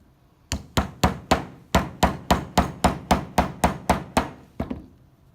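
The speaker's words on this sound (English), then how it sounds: "You're gonna punch through all of those pages" An awl is driven through a stack of book pages for traditional bookbinding, giving about fourteen sharp, evenly spaced hammer-like knocks, loud and close, with no talking.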